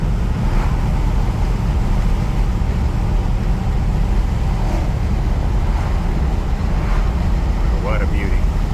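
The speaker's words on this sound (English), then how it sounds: "boy, this really moves down the road well" A fully restored 1963 Ford Thunderbird cruises down the road, its steady low engine and road rumble mixed with wind noise on the microphone, continuous and fairly loud throughout.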